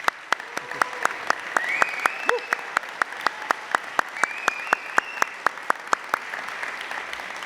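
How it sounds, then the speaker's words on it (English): Audience applause at a Hall of Fame induction ceremony for Garnet Athletics inductees, heard as a thin, steady run of evenly spaced claps, moderately loud, with faint tonal sounds in the background. "round of applause for all of their accomplishments"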